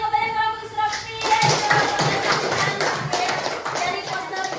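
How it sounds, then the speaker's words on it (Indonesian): Primary school classroom clapping for a student presentation group, a burst of hand claps starting after a second and continuing at a fairly close, moderate level, with children's voices and shuffling mixed in. "sudah beri tepuk tangannya kepada kelompok Israfil"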